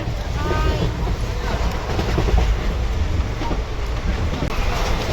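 Steady rumble of a moving train heard from inside the carriage, constant and loud, with muffled voices mixed into the noise.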